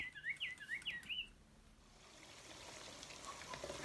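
A pet bird chirps in a quick series of high, warbling tweets at the start, fairly faint and close, before fading into quiet indoor hiss.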